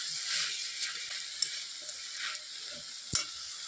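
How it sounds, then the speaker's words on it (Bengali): Banana flower mixture stirred in a frying pan, a steady soft sizzle broken by scraping strokes of the spoon and a few sharp clinks against the pan, close and alone. "5 মিনিট মতো নেড়ে নিব এটা ভালোভাবে"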